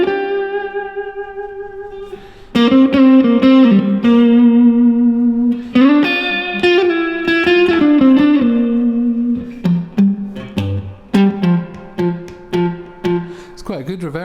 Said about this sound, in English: Quite a good reverb sound, a bit like a medium length tank.